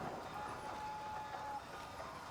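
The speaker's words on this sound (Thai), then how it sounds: "เริ่มรถไฟเลย" A train pulls away in the horror video game The Whispers, a steady rumbling hiss with a thin, sustained whistle-like tone riding over it, fairly quiet and continuous with no voices.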